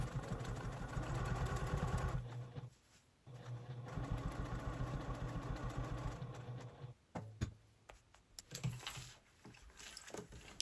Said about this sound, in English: I'm going to catch the open part and stitch it closed now as I am sewing around.